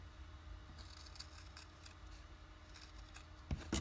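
Scissors cut fabric on an embroidered purse, making quiet, close snips that end in a pair of sharper clicks, with no voices.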